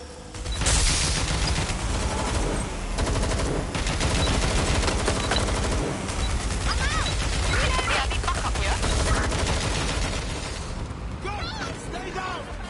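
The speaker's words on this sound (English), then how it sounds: "Gunfire!" Rapid bursts of automatic gunfire in the video game Watch Dogs: Legion, dense and loud throughout, layered with explosive impacts and game sound effects; voices speak at points amid the shooting.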